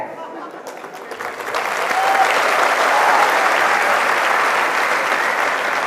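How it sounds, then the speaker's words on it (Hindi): A large audience of students in a hall calling out answers together, a loud swelling roar of many voices that rises and holds, with speech before it. "देख लो कितने सारे लोगों की आवाजें आई है।"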